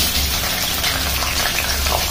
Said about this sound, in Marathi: हे पाण्यात भिजवलेले रताळ्याचे काप मी या तुपात सोडते